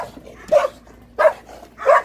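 A pet dog barks three times at a steady pace, close and fairly loud, with short pauses between each bark and a quiet background.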